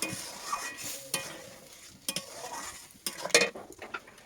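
A spoon scrapes and stirs through cooked lentil dal in a pot with chopped coriander leaves and green chili, a soft simmering sizzle underneath and a few sharper clinks, close by and without speech.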